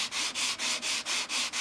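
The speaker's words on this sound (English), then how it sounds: "the last little bit I'll do with that hand sanding block" Hand sanding block scrubbing a carbon fiber crutch in steady back-and-forth strokes, about seven even passes with brief gaps between, close and clear with no talking.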